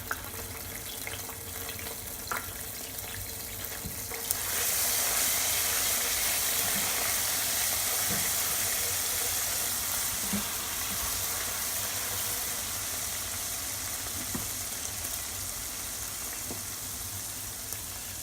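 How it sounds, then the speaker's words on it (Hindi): Cumin and garlic-ginger paste frying in a pan, a faint hiss that jumps into a loud, steady sizzle partway through and keeps crackling evenly to the end. "ज़ीरा को मैं फ्राई कर रही हूँ और साथ ही साथ इसमें मैं लहसुन अदरक का पेस्ट शामिल कर दूँगी।"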